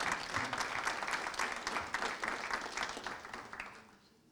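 A community iftar audience gives volunteers a round of applause, dense clapping that holds fairly steady, then thins and fades away toward the end.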